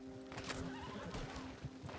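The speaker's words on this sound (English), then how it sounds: "The horse has survived" A horse in a cowboy-themed video game lets out a brief whinny, with a few faint hoof clops under a steady background hum.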